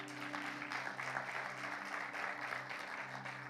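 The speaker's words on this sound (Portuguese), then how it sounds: "Quem pode aplaudir bem forte o Senhor?" A church congregation claps during a sermon, a faint, steady patter of applause heard from a distance over a low hum and a held musical tone.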